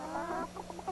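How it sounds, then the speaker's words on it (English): Chickens cluck in a short run of close, quick, throaty clucks. "Why are they clucking like that?"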